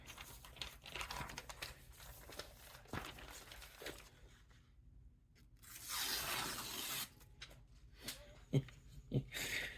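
A sharpened ceremonial sword slices through paper, giving crinkling, tearing rustles and a brighter swish of cutting near the middle, with handling noises around it and no speech.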